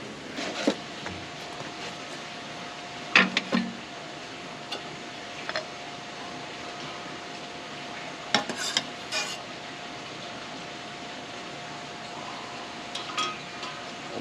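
Cord soaking in a pot of melted wax for a brass slow match, a faint quiet bubbling hiss under a thin steady tone, broken by occasional sharp clinks and scrapes of metal against the pot.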